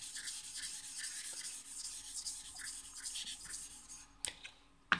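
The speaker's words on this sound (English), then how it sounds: "Okudo number 52, which I'm going to raise a slurry using a diamond plate as per your request." A diamond plate rubs over a large Okudo Suita #52 bench stone to raise a slurry, making faint, close, rhythmic scraping strokes, with a couple of sharper knocks near the end.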